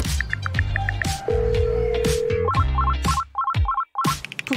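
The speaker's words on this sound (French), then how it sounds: "Pourquoi est-ce qu'il ne répond pas à son téléphone?" A phone rings repeatedly with electronic ringtone bursts while nobody picks up, the tones recurring in a steady pattern amid other busy sounds and a sustained tone, fairly loud and close.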